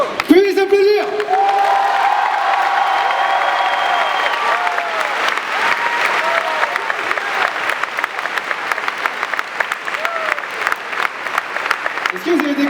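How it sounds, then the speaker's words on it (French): An audience applauds the finished drawings at a live manga draw battle event, a dense sustained wash of clapping from a crowd that runs steadily throughout, with a few brief vocal sounds at the start. "Vous pouvez les applaudir."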